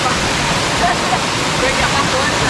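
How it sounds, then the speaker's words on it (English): Palatuvier waterfall in Tobago rushes in a loud, dense, continuous roar of falling water close by, an unbroken broadband wash with faint voices buried beneath it. "so that's the waterfall"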